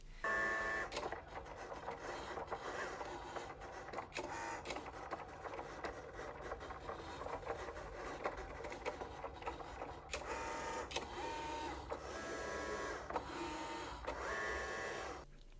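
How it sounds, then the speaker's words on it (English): A Cricut Joy 2 cutting machine cuts sticker sheets with a quiet, continuous mechanical whir and faint motor whine, steady throughout with small clicks and shifts. "I'm going to load my first mat into the machine."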